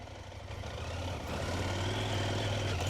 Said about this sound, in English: The little motor chugs really good.